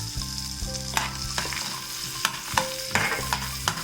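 Almonds, cashews and pistachios sizzle in a frying pan as a spoon stirs them, with sharp scraping clicks against the metal over a low, steady hiss. No one speaks.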